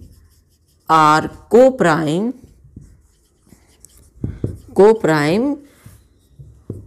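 During a class 6 maths lesson, a marker or chalk is written on a board. The soft, scratchy strokes fill the pauses between a teacher's speech.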